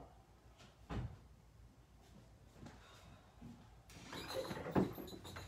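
A door bumps and thuds a couple of times at night, with a low knock early on and a louder rattle and clatter toward the end, all faint and without talk.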